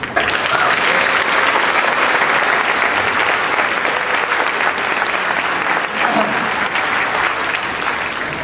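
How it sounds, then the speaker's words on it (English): Sustained, loud applause from a large audience at the Fridley High School 2014 commencement for its teachers, a dense, even roar of clapping throughout. "a round of applause for your teachers"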